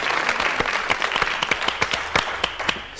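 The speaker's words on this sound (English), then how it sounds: "Sportivement, Pascal vous applaudit, Evelyne." Studio audience applause on a French television quiz show, a dense, steady patter of many hands with sharper individual claps standing out, sustained without pause and without talk.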